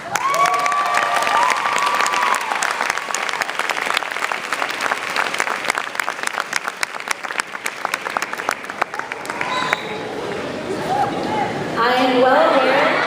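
A commencement audience applauds the graduates' families with sustained, dense clapping for about nine seconds before it fades and a single voice starts talking.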